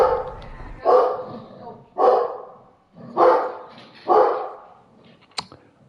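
A dog barks four times at a slow, even pace, each bark loud and close with a short whimper-like tail, followed by a brief sharp click at the end.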